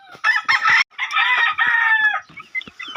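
Chickens and chicks cluck and crow loudly and close by in a few short, irregular bursts on a farm, with no talk.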